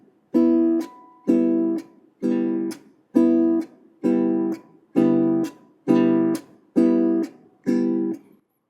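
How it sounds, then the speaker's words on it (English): Guitar played with a Jamaican-style strum on open strings, alternating a muted chop with a ringing strum: nine evenly spaced, bright harmonic chords, each sustaining briefly before a short damped gap, close and clear with no talking. "I've selected a strum, which I call the Jamaican strum."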